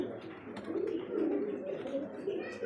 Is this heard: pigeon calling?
yes